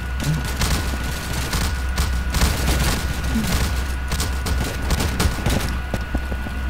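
In a Halo WWII Soviet roleplay video game, bombs and gunfire rattle on continuously, with rapid crackling bursts of fire and dull booms layered under a constant battle din.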